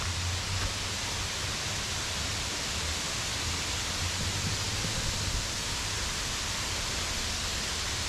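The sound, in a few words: waterfall at Mount Coolum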